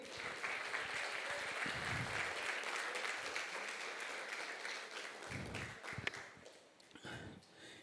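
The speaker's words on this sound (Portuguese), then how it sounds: "Você pode dar uma salva de palmas para o Senhor?" A church congregation at a Sunday service breaks into steady applause, many hands clapping together at a moderate distance for several seconds, then a few scattered claps and shuffling as it fades.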